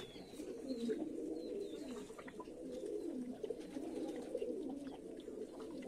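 Flock of pigeons cooing continuously during a bath in the sun, overlapping low rolling coos at moderate distance with faint background rustle and no talking.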